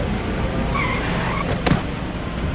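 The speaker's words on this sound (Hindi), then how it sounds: "रॉड कब्रिस्तान के पास आकर गाड़ी रोक देता है।" A car screeches to a stop near a graveyard in an animated horror story, a short tire squeal over steady engine and road noise.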